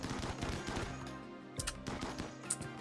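Gunfire in a Rimworld raid fight: quick, steady bursts of small game gunshots crackle throughout, with a few louder sharp shots standing out, alone and fairly faint, without talk.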